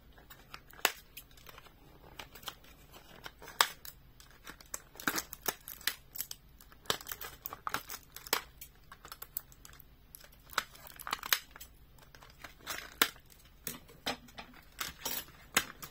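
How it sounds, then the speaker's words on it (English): Scissors snipping twist ties off vintage Hot Wheels toy cars from a mixed bin, a scattered series of quiet, sharp clicks and crinkles at an irregular pace, close by with no talking. "Let's try to just cut most of this out."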